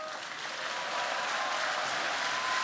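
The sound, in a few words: audience applause in an arena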